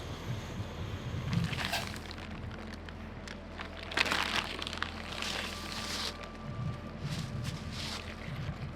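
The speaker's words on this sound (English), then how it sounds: "very windy and rainy" Steady wind rumbles and buffets outdoors in the wilderness amid on-and-off rain, with occasional gusts and faint hissing bursts over a low, constant roar.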